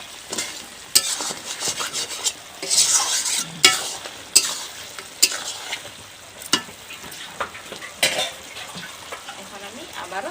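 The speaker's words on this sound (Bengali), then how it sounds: "এই জল দিয়ে কিন্তু আবারও ভালোভাবে কষিয়ে নেব।" Potatoes and village-style desi chicken are stir-fried in a pan with a splash of water, a constant sizzle broken by repeated sharp scrapes and knocks of a spatula against the pan, nearly ten clattering strokes at uneven intervals.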